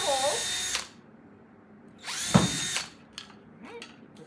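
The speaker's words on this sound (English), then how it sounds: "I'm simply going to just drill a hole in all of these, all the way through." A power drill bores holes through wooden pallet boards in short bursts, whining up twice for under a second each time with quieter pauses between, close by, followed by a few lighter mechanical clicks.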